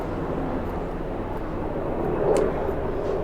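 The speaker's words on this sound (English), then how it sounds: "we have a helicopter going overhead. Can you hear that?" A steady low engine drone passes overhead, swelling slightly in the middle before continuing as a constant distant rumble.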